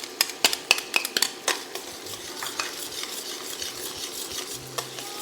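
Capers and lemon zest get stirred in a hot pan: a quick run of sharp metal clinks and scrapes at the start, then a softer steady sizzle with an occasional utensil tap.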